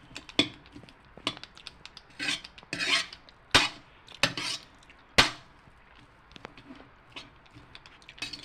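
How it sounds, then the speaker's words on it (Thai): Eggs stir-fried with shallots in a pan, with repeated metallic scraping and clanking of a utensil against the pan in irregular bursts, some sharp strikes standing out over a quieter sizzle. "ผัดไข่นะจ๊ะผัดไข่"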